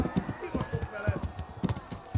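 Horse hooves clop at a steady rhythm in the medieval game Kingdom Come Deliverance 2, close and moderately loud, as a mount plods along.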